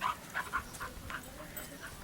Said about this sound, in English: That's Mucky, my little dog.